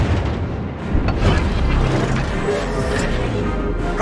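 Prinz Rupprecht battleship guns firing on a target in a naval video game: heavy, booming artillery blasts with a rumbling, continuous low roar, loud and close throughout.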